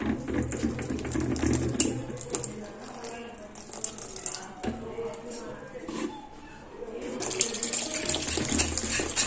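Water poured into flour batter and stirred by hand in a home kitchen while making dosa-style batter for chicken rolls, with close wet splashing and slopping sounds rising and falling throughout, busier toward the end.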